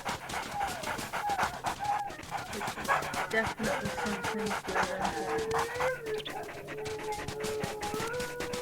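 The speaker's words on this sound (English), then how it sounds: "I am sorry if you hear the dog in the background" A dog pants and lets out thin whines in the background while a person talks over it.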